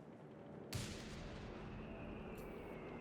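75 mm artillery fires in the video game Company of Heroes 3: one sharp, loud blast followed by a sustained roar of battlefield noise and rumble, with no talking.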